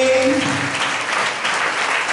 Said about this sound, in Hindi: जोरदार ताली बजाओ इसके लिए।